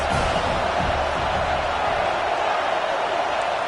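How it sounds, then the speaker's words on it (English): Football stadium crowd roaring during a game broadcast, a dense continuous wash of distant voices and noise holding steady throughout, with no distinct cheers standing out. "This crowd trying to make life miserable for this offense."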